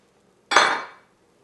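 A single quick rattling clatter as a handful of diced onion, celery and carrots drops into a pot for smoked turkey navy bean soup, close and brief, then quiet.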